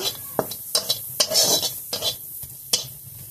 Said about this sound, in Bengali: এখন কড়াইতে আমি পেঁয়াজ দিয়ে দিচ্ছি।